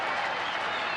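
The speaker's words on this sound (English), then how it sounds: "And the crowd, some standing, all applauding" Baseball stadium crowd at a Tigers–Rangers game, some fans standing, applauding; a dense, continuous wash of clapping and crowd noise filling the whole moment.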